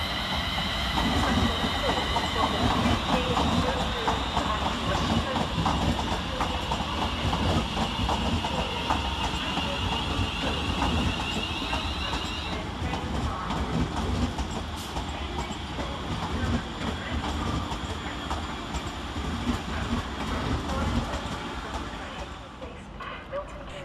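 Two London Northwestern Railway Class 350 units from Birmingham New Street pull into Euston's far platform, a steady rumble of wheels and clickety-clack with a long tonal whine that fades midway, with some voices in the background.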